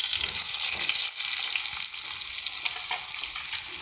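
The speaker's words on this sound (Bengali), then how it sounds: "এবার এই সেম তেলে আমরা আগে থেকে একটু ভাপিয়ে রাখা আলুগুলোকে ভেজে নেব।" Steamed potatoes frying in oil left in the pan after the eggs were cooked, a steady dense sizzle running throughout at close range, loud and continuous with slight stirring variation and no talk.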